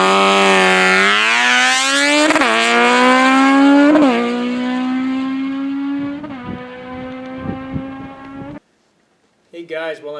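Kawasaki Z900RS motorcycle with a Stage 2 tune launching from about 4,500 RPM, a loud close engine roar rising steeply through several gear changes before cutting off, with a voice briefly heard at the end.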